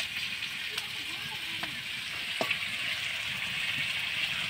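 Rooster meat sizzles as it is fried down in a pan for kosha, a faint steady crackle broken by a few sharp clinks of a utensil, with a voice talking in the background.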